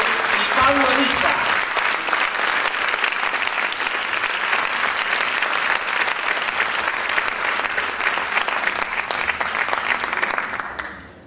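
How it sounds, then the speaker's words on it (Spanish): Loud, sustained audience applause welcoming two speakers at a Pecha Kucha night in Mar del Plata, a dense steady roar of clapping with a brief voice at the start, lasting about eleven seconds before fading. "Ahora sí, fuerte aplauso"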